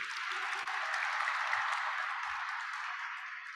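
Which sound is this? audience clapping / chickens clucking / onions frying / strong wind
audience clapping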